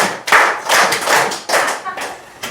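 An audience at a lecture claps together in a counted rhythm, a run of loud, close hand claps in irregular bursts with no one speaking.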